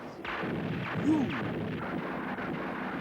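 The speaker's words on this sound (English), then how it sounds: "Fire all cannons!" Cannon fire in the Gamera monster movie, heard as a muffled, rumbling blast of artillery, moderately loud, with a brief whistling tone near the middle.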